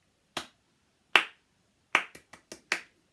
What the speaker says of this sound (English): So if I do ta, ta, ticka, ticka, ta, clap that one back.